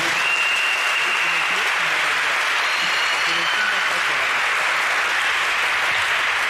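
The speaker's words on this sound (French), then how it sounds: "Est-ce qu'on peut acclamer également pour eux?" A church congregation at a national prayer gathering applauds steadily and loudly throughout, a dense wash of clapping with faint talk beneath it.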